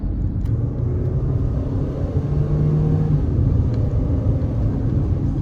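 A 2023 Mahindra XUV700 AX7 L SUV accelerating, heard as a steady low engine and road rumble from inside the cabin, constant and moderately loud throughout.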